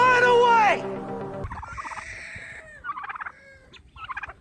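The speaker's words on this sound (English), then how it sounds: "So that turkey, he's got his eyeball on a hen." A turkey gobbles loudly and close while chasing a hen, then comes a lower trill and several quieter clucking calls from the fowl.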